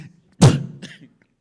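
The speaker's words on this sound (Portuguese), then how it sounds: "Tosse." A single sharp cough rings out in a quiet chamber during a formal council session, followed by a smaller second burst, close and fairly loud against near-silence.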